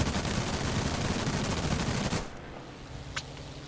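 A P-36G fighter's 7.62 mm and .30 cal machine guns fire in a long, rapid burst in the War Thunder video game, loud and dense for about two seconds before cutting off to quiet engine drone and a faint click.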